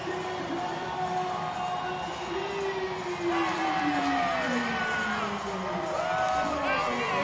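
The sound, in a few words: stadium crowd cheering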